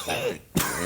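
A single sharp throat-clearing cough bursts out mid-clip, brief and close, amid low background noise.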